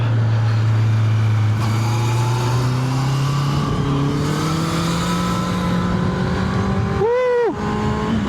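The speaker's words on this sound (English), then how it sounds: "I absolutely love this bike." A motorcycle engine while riding on the road, holding a steady loud drone that slowly climbs in pitch, then dips and recovers sharply near the end as the rider shifts or revs.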